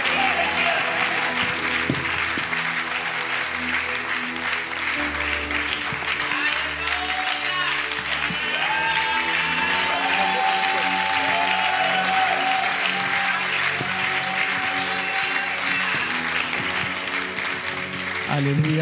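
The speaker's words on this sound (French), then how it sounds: "Acclame jusqu'à ce qu'il prenne le micro." A church congregation applauds and cheers steadily for a preacher coming to the microphone, dense clapping running throughout with music and voices mixed underneath.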